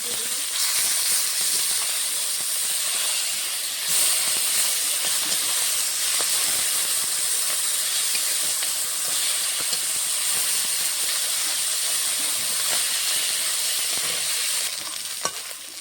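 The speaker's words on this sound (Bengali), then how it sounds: "আমি হালকা করে ভেজে নিচ্ছি" Tilapia fish lightly frying in hot oil, a loud, continuous close-up hiss and sizzle that holds steady throughout with faint occasional crackles before easing slightly at the end.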